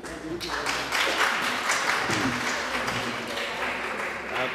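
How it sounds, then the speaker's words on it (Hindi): Audience applause fills the hall at a Mushaira poetry awards ceremony in Wimbledon as a shield is presented, a steady wash of clapping for several seconds that fades slightly near the end. "आपकी भरपूर तालियों में जनाब नाज़िर फ़ारूकी साहब।"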